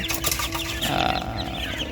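Young chicks around a month and a half old, sold as tiger chickens, cluck and cheep continuously at close range, several overlapping calls forming a busy chatter with no talk.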